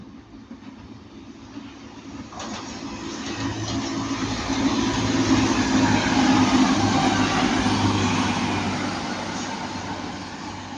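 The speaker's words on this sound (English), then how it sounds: "I think that's the 150 going to Piccadilly." A Class 150 diesel multiple unit train passes at Ardwick on its way to Piccadilly, a steady rumbling roar that swells toward the middle and slowly fades, with no voices.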